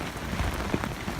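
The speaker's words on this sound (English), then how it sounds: "It's pissing down with rain." Heavy rain pours steadily onto a camping tarp at a hammock camp beside Thirlmere in the Lake District, a dense close patter with occasional heavier drops and gusty wind.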